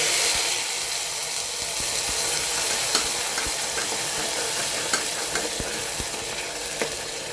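A ginger, garlic and onion paste sizzling and frying in a hot pan, with a steady loud hiss and occasional sharp clicks of stirring.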